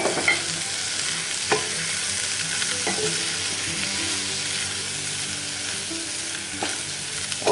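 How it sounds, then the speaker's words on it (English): Onions fry in bacon fat in a Dutch oven over bottom heat, a steady close sizzle with a few sharp knocks of the stirring spoon against the pot. "Alright, in with our onions. Stir them in."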